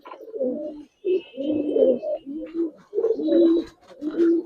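Giribaz pigeons coo repeatedly near a cage just after release, close and loud, in rhythmic bursts with short gaps between calls.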